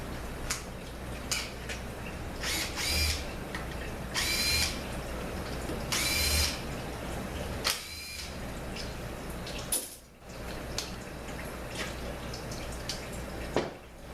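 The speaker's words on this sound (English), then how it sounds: "Bolts are coming out, nice and easy." Power tool spins bolts out of a ZF5HP24 automatic transmission during teardown, several short whirring bursts with pauses between, close by in a workshop, with faint mechanical clinks.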